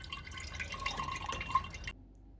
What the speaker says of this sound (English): Water's coming out the car plug, look.